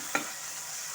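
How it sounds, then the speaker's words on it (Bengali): Eggplant is stir-fried with ginger, garlic and chili: one short, sharp stirring scrape over a faint, soft sizzle in a brief moment. "এখন আমি সমস্ত কিছুর সাথে আমি আদা রসুন লঙ্কার সাথে ভালো মতো করে কষে নেব।"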